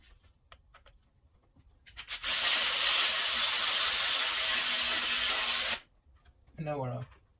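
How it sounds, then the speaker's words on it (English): A battery-powered 1/4 inch ratchet drives a spark plug socket on a 3.5L Ford Taurus engine, giving one loud, close whirring burst of about three and a half seconds, with quiet before and a brief voice afterward. "I know our battery ratchet was not seated completely on there."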